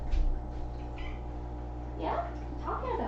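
A mostly black kitten gives a couple of short meows near the end, nearby and moderately loud over a steady background hum.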